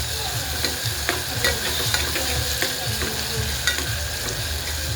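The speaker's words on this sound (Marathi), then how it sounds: "अद्रक, लसूण आणि कोथिंबीरची पेस्ट टाकूया." A paste of ginger, garlic and coriander sizzles in oil with tomato for a masala rice pulao, a steady close hiss broken by small pops and scraping stirs.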